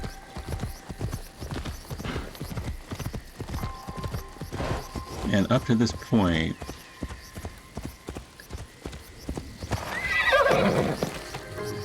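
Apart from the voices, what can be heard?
horse galloping and neighing in video game Assassin's Creed Shadows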